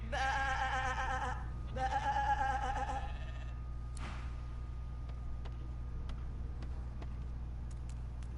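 Two loud, drawn-out sheep bleats from the video game Divinity Original Sin 2, one right after the other, over a low steady hum, followed by faint ticking game sounds.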